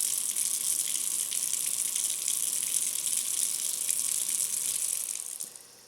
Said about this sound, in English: run your water hot for 1 minute.